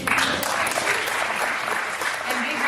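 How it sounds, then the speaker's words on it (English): Enthusiastic audience applause at an evening fundraising event, a dense steady patter of many hands clapping, fairly close and loud, with voices mixed in underneath. "Applause for them."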